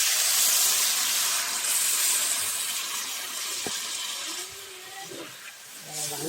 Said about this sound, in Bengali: এবার আমি কড়াই জল দিয়ে দিচ্ছি